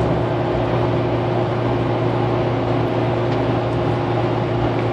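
Steady in-cab drone of a Duramax diesel pickup cruising in sixth gear overdrive as it climbs a long hill, with a constant low engine hum and road noise throughout; the downshift itself is not distinct.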